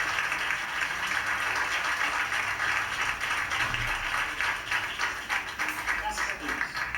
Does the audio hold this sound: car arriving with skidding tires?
no